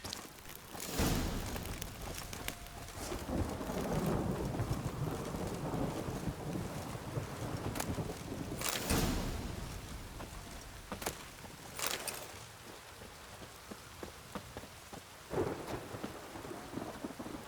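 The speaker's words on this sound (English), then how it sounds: "The storm, damn it." In The Witcher 3, a thunderstorm pours steady rain, with several sharp thunder cracks and rolling rumbles spread across it, some near and loud, others fainter.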